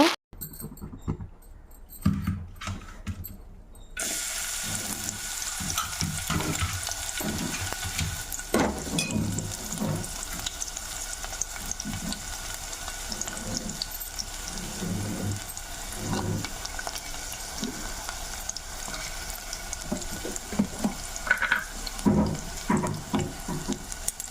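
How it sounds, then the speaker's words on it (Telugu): Thinly sliced onions dropped into hot oil in a kadai while cooking bitter gourd curry, starting with a few clatters and then a continuous hiss and crackle with intermittent knocks and stirring, fairly close and steady. "ఆయిల్ కూడా కొంచెం హీట్ ఎక్కగా ఒక ఉల్లిపాయను అయితే సన్నగా కట్ చేసుకొని ఉల్లిపాయ ముక్కలు అయితే వేసాను అనమాట"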